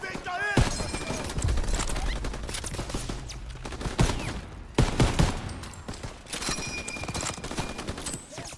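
Machine gun fire in the World War II shooter game Call of Duty WWII, bursts of rapid gunfire and explosions mixed with shouted voices and game sounds, loud and chaotic throughout.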